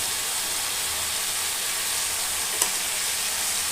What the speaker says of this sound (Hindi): और धनिया पाउडर दे दीजिए और इस मसाला और लाल मिर्च पाउडर भी अच्छे से भून जाना चाहिए।